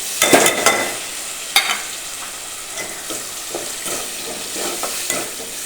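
Washed sago stirred and roasting in hot oil with tomatoes and potatoes in a pan, a steady close sizzle broken by several sharp scraping stirs, loudest near the start.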